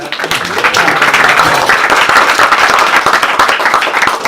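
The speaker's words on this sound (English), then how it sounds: "Well, round of applause." A loud, dense round of applause fills the room from an audience at a spiritual goal-setting talk, sustained clapping close by with a few voices mixed faintly underneath.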